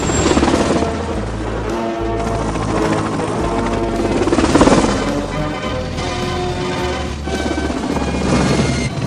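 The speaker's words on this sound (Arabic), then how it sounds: "سيدي، سرق مروحية وهرب ونحن نطاردوه" A helicopter flies in an Arabic-dubbed Spider-Man cartoon, its steady low rotor chop running loud and continuous under dramatic music and bursts of action sound effects.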